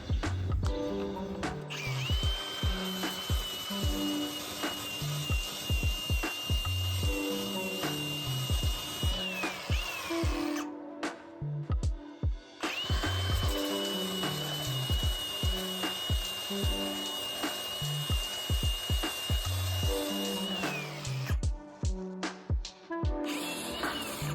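Power tool grinding metal on a trailer, running in two long, loud, steady whining passes with a constant high tone, broken by brief pauses and rhythmic rough chatter underneath, close by with no talk.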